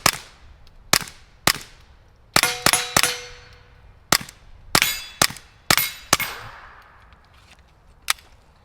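Sharp, ringing reports from a Smith & Wesson .22 firing CCI standard ammunition, about a dozen shots at uneven intervals, some in quick pairs, each with a metallic ring that fades quickly, outdoors with no talking.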